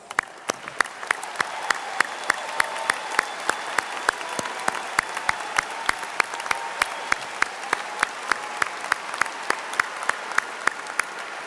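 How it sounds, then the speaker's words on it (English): Audience at a spring commencement ceremony applauding military members, a steady dense patter of many hands clapping at even volume throughout, distant and reverberant in a large venue. "so we can give you a well-deserved round of applause"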